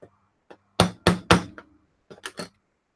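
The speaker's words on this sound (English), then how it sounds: "is beating something with a brass tipped hammer considered normal wear and tear?" A brass-tipped hammer strikes a 3D-printed plastic test piece: three loud, sharp blows in quick succession, then a few lighter taps after a pause, with no talking.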